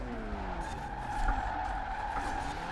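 Tires skidding steadily through a drift in the Forza Horizon 4 racing game, a continuous squeal over a droning engine, sustained and fairly loud throughout.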